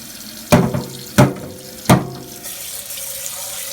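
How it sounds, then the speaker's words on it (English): Rice being washed under a running tap to rinse out starch, with three sharp splashing bursts of water in a pot followed by a softer trickle, close up and with no voices. "Clean the rice so you get the starch out."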